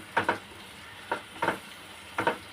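Onions are stirred and fried in a pan for chicken curry, with faint sizzling under three pairs of quick scraping strokes at a steady spaced rhythm, close and soft.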